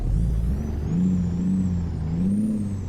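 Caterpillar C15 and C13 diesel truck engines run steadily nearby, a deep continuous rumble with a faint high whine, rising and falling slightly in pitch as if revved gently, no voices over it.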